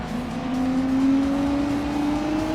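A race car in the Gran Turismo 7 video game drones steadily at close range, its engine pitch holding level and then rising slightly under braking and gear changes, loud and continuous with no talking.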